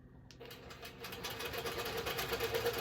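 Longarm quilting machine stitching a quilt-as-you-go piece along a horizontal channel lock, a steady rapid mechanical whir with fast needle ticks that starts after a brief quiet moment and stays close and even.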